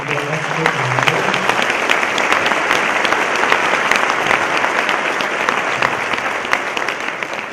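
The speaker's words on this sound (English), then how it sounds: "I want to have us give this group a round of applause just for their expert." An audience at a high school future freshmen night applauds a group with loud, sustained clapping. A voice is heard briefly at the start before the clapping fills the room steadily.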